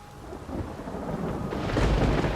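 A thunderstorm in the video game The Witcher 3 builds as a deep rumble of thunder swells over constant falling rain, growing louder toward the end, with no voices.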